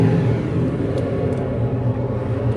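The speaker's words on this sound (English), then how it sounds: "Hear this blower ramp up here" A Carrier furnace blower motor runs close by with a steady low rumbling whir, holding at an even level without talk.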